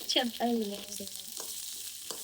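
Okra is stirred and fried in a pan, giving a faint, soft sizzle with a few brief squeaky tones and light scrapes over a short stretch.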